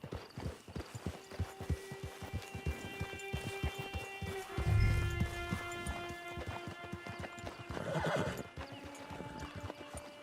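Steady clip-clopping hooves carry throughout in the video game Red Dead Redemption, a horse whinnies loudly midway, and a second whinny follows near the end.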